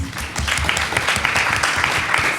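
An audience at a science and technology panel session applauds for someone speaker, steady dense clapping throughout at close range with no one talking over it.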